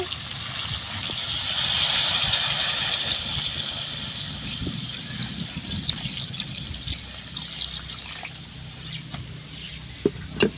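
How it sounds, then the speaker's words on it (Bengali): Water trickles and pours steadily into a pan of Bengali chicken kosha, a continuous close liquid stream swelling in the first seconds and then running on with light splashing and a few small clinks. "এবার আমি জল দিয়ে দেব।"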